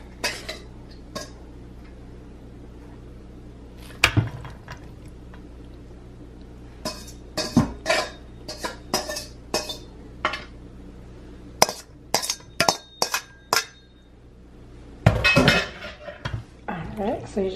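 Macaroni salad pasta is stirred with dressing in a bowl, giving irregular clinks and scraping clatters of a utensil against the dish in short bursts, some louder, with quiet pauses between.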